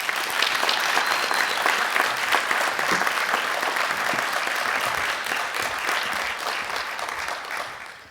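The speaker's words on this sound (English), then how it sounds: "Let's have another round of applause for all of our Hall of Famers here tonight" Sustained, dense audience applause fills a hall at a senior advocate Hall of Fame induction ceremony, loud and steady throughout before tapering slightly at the end, with no talking over it.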